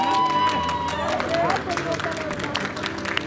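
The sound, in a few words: spontaneous applause by doctors and nurses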